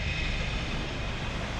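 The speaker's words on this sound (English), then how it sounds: "They're drilling for something" Drilling machinery runs in the background near the coastal path at St Helens on the Isle of Wight, a continuous, even, broadband mechanical roar without breaks.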